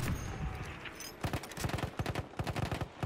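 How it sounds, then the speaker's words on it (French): Bursts of enemy machine gun fire in a war video game, rapid rhythmic volleys starting after a moment of ambient battlefield rumble, loud and fairly close with repeated clusters of shots. "Mitrailleuse ennemie en route."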